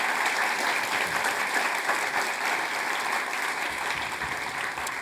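Sustained audience applause in a hall welcoming the President of the Tibetan administration onstage at a conversation event, a dense even roar of clapping throughout with no speech.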